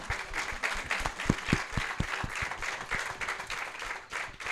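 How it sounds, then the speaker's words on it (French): A school audience in France claps in thanks after a speech, a moderately loud crowd applause with distinct sharp individual claps popping out of the steady patter throughout. "Je trouve que ça mérite quand même des applaudissements et un grand remerciement"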